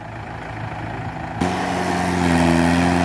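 Mahindra tractor engine running steadily at a sugarcane crusher, a loud, close, continuous diesel rumble that jumps to a harder, higher-revving drone midway through.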